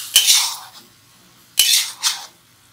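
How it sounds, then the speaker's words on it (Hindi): Boiled basmati rice being mixed in a metal cooking pan: two separate bursts of scraping, clattering utensil strokes on the metal, close and fairly loud, with quiet gaps between. "ये हम इसके अंदर चावल डाल देंगे, इसको मिक्स करेंगे"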